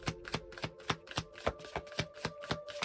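Tarot cards being shuffled, a steady run of crisp riffling snaps about every quarter second, close and clear with no talking.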